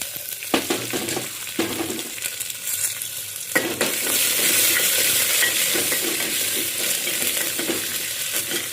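Red chillies, garlic and curry leaves sauté in a pan. Scattered stirring clatters come over a hissing sizzle that swells into a loud, steady frying roar partway through.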